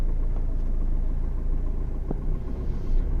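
A Hyundai Creta diesel engine with about 67,000 km pulls uphill through a hilly area, heard as a steady low rumble from inside the cabin with a couple of faint clicks and no talking.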